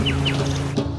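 Birds chirp near a waterfall in the Uttarakhand hills, with a few quick, close tweets rising over a steady background rush.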